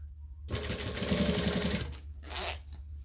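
A sewing machine runs one steady, loud burst of top stitching along a bag seam, with a short pause and a second brief whir near the end.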